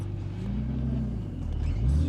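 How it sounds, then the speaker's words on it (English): A turbocharged E36 with a freshly balanced new drive shaft and new U-joints pulls away, its engine a steady low rumble rising slightly as it accelerates, close and continuous with no talking. "we're gonna take the turbo car for a little drive"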